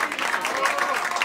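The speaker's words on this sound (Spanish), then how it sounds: "Un aplauso fuerte para la señorita" Audience applause at a live comedy show, dense clapping sustained across the brief moment, fairly loud and close with a slight rise midway.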